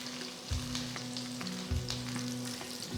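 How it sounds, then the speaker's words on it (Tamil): Stuffed okra (vendakkai) frying in a tablespoon of oil in a pan over medium flame, a steady close crackling sizzle with a low hum beneath and a couple of soft thumps as pieces are placed. "ஒரு பேன்ல 1 டேபிள் ஸ்பூன் எண்ணெயை ஊற்றி ஸ்டஃப் பண்ண வெண்டைக்காயை ஒன்று ஒன்றா மெதுவாக எடுத்து வைங்க"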